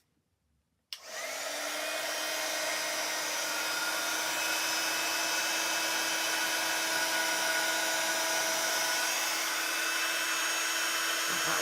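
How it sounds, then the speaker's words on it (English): A heat gun warming a card journal page switches on abruptly after a brief silence, then blows with a steady, loud, even whir until the end, no talking. "And I'll get my heat gun on it."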